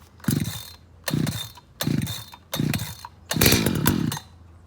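An ECHO CS600P chainsaw is started cold with five sharp recoil-cord pulls, each a loud close ratcheting burst; the last is longer and rougher as the engine tries to catch.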